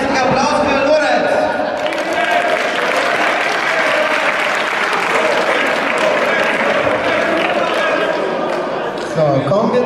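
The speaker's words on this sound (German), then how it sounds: "Ein heftiger Applaus" A large wrestling-show crowd applauds loudly and steadily, with cheering voices mixed in, sustained throughout before tapering at the very end.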